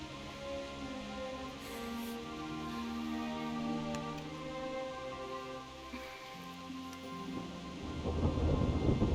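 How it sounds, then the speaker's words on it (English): A rainy thunderstorm in Kingdom Come: Deliverance rumbles under soft background music, rain hissing steadily, with a louder burst of rain and thunder swelling near the end. "Not afraid of thunderstorms, are you?"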